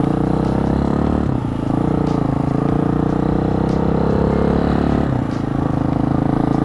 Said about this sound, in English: So this bike shifts a lot smoother than my SV, actually.